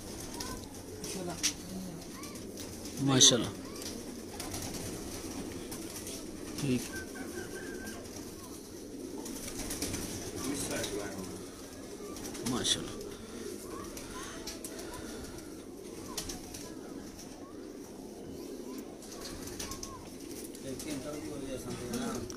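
Teddy pigeons coo in a loft with soft, repeated throaty calls running steadily throughout, and someone talks over them.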